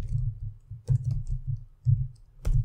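Keys tapped on a computer keyboard to enter a file name, a quiet cluster of soft clicks and thumps in uneven bursts, close and alone.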